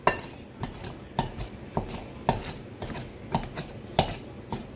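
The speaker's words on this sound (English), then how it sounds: "cutting the butter" A knife cuts through butter against a plate or board, giving a steady series of light clicks and taps about every half second, quiet and close.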